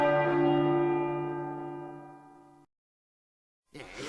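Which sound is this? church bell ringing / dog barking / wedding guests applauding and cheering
church bell ringing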